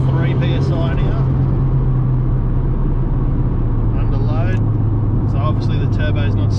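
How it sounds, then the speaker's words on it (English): A turbocharged Honda engine pulls in fourth gear at about 3 psi of boost, a loud steady in-car drone with heavy road rumble throughout, with voices talking over it. "So we're in 4th gear, it's running about 3 PSI now."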